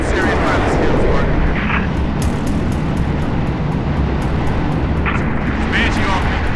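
A Banshee aircraft from the video game Halo Reach roars in a loud, steady engine rush with a broad whooshing texture, while voices and radio chatter come through over it.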